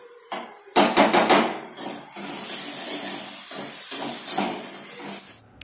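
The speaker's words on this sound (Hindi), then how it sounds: "कढ़ाई में तेल गर्म हो गया है, चॉप किया हुआ प्याज डाल देंगे" Chopped onions hit hot oil in a kadhai, a loud sizzling hiss with clattering thumps from a utensil against the pan, then a steady close frying crackle that holds for several seconds.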